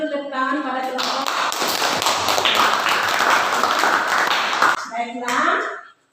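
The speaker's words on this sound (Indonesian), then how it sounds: "Kita berikan dulu tepuk tangan pada kelompok." Indonesian schoolchildren in a classroom applauding a student presentation group, a loud burst of brisk, dense clapping lasting several seconds, with a teacher's voice speaking before and after it.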